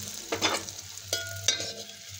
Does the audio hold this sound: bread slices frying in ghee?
yes